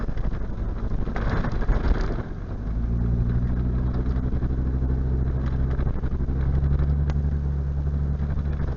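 At night, a car creeps through stop-and-go traffic in a marina area, its engine a low rumble that idles and pulls away again, heard through muffled, wind-buffeted dash cam audio with no talking.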